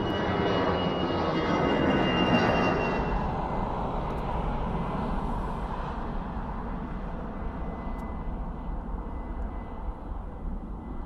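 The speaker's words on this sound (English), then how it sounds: "The aircraft came into land and you just saw it taking off. And that was, of course, EasyJet." An EasyJet airliner landing and then taking off, its jet engine roar loud at first and then easing into a sustained, slowly fading rumble, heard alone without voices.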